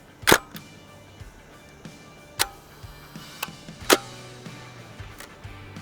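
A Hasselblad medium-format film camera fires its shutter for the final frame of a roll during a sunset landscape shoot outdoors. A sharp mechanical click stands out over quiet surroundings, with a few softer ticks and clicks around it.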